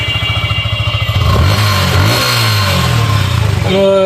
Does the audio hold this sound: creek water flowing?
no